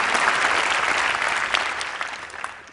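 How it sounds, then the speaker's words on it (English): An audience at a public health talk breaks into applause, a dense close wash of many hands clapping that holds strong, then gradually thins and fades toward the end. "Yes, clap for that."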